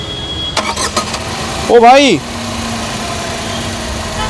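A 2023 Tata Tiago XT with the BS6 engine cranks briefly and fires, then settles into a steady, even idle; a man calls out just before it starts.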